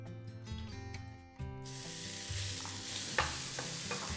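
Onion frying in a heated pan while being stirred, giving a steady hissing sizzle with scraping stirring sounds, close and fairly quiet, no talking.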